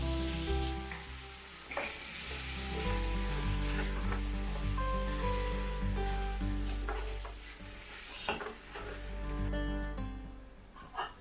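Meat and ginger garlic paste sizzle in hot ghee that onions were fried in, a loud continuous close frying hiss with stirring scrapes and occasional clatter.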